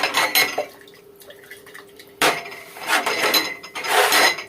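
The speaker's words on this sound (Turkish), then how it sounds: "Bakın bu şekilde kavanozları da sıcak suyla haşlıyoruz." Glass jars being rinsed and knocked about in hot water in a cooking pot for canning peas, with bursts of sloshing water and clinking glass against metal, close and fairly loud, pausing briefly midway.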